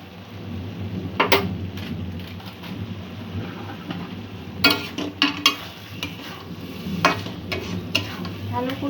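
A spoon stirs Bombay duck and ridge gourd curry with garam masala in a pan, producing intermittent clinks and scrapes against the metal over a soft low sizzle, with no one speaking.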